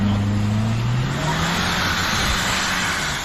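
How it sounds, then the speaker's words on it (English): A Ukrainian MRAP armored vehicle approaches fast on a road in the Kursk war zone, its engine roaring loudly and steadily as it passes close, with rising engine tone and no talk. "We now see a Ukrainian vehicle fast approaching. It looks like some kind of an MRAP."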